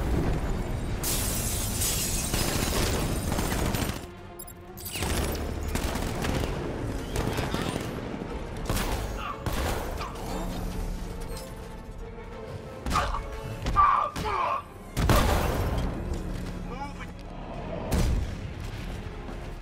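Rapid gunfire in Batman: Arkham Knight, with sharp shots and machine-gun bursts, shattering and blasts spread across the stretch, broken by short pauses, with voices talking between the shots.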